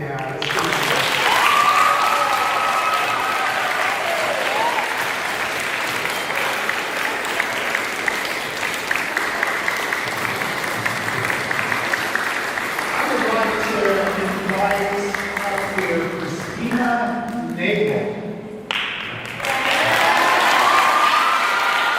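Students applaud and cheer for their parents seated in school bleachers, a long sustained wave of clapping with excited children's shouts, loud and echoing in a large hall, fading briefly near the end before swelling again.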